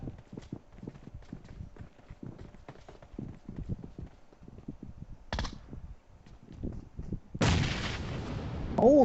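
Sharp bursts and booms punctuate a clattering game scene, with a sudden loud blast near the end that leaves a sustained roar.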